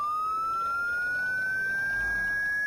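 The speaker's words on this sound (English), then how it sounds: "I know this siren." A single ambulance siren tone in the video game Project Zomboid rises slowly and steadily in pitch, loud and close, sounding alone over a faint low rumble.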